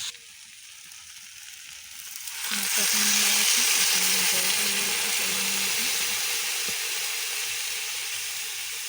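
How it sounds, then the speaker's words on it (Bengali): Mixed vegetables with a fish head sauté in a hot pan: the steady sizzle surges in suddenly and then holds loud and close, with faint stirring clicks underneath. "তারপর ভালো করে কষাবো সবজিটাকে"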